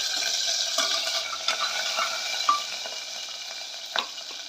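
Cumin and chopped green chillies fry in hot oil with a dense, even sizzle, crackling with a few sharper pops and spatters throughout.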